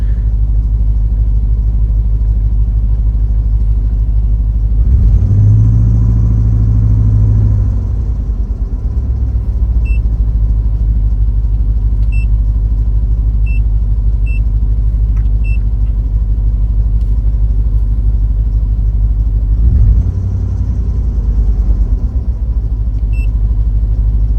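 Car engine idling at about 1100 RPM: a loud, steady low rumble that holds even throughout, with a couple of brief swells in the whir and faint ticks, no talking.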